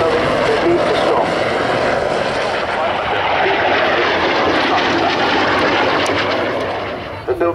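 A Saab jet combat aircraft passes at the Sanicole Air Show with a loud, sustained engine roar that fades near the end, while an announcer talks over it.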